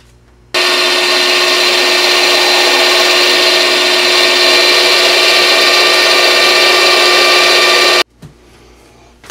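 Power drill running a 5/16-inch installer drill bit into steel rebar to bore a rifle barrel liner, a loud steady grinding whine held for about seven and a half seconds, then stopping abruptly.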